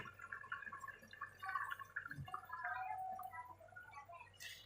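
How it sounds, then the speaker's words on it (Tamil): Hot water is poured into a cooking pot of chicken biryani, giving a soft, steady liquid stream with gurgling and splashing, fairly quiet and close, with no talk over it. "சுடு தண்ணியை ஊற்றலாம்."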